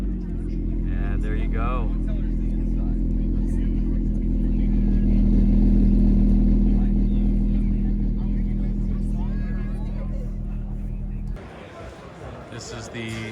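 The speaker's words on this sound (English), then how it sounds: "Eric's gonna fire up the J Series TSX just for the heck of it." A J37 V6-swapped 2004 Acura TSX with a 6-speed fires up and idles loudly with a rough, throbbing note, swelling in a rev midway at an outdoor car show, with voices talking nearby before it cuts off.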